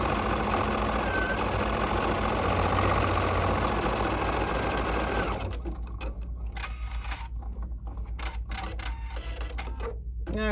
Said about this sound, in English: It's going to go around the circle twice to make sure that that fabric is firmly stitched to my stabilizer.